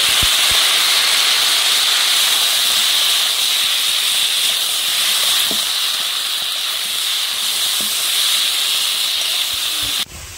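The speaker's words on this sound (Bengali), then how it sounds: "মশলাটা দিয়ে 4-5 মিনিট কষিয়ে নেব ভালোভাবে" Spice paste sautéing in a pan for a bean (shim) bhorta, a steady close hiss and sizzle running unbroken for about ten seconds with no talk, ending in a sudden cut.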